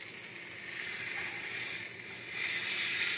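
A T-bone steak sizzles steadily in a hot pan just after being flipped, a close, bright, continuous hiss that swells slightly toward the end.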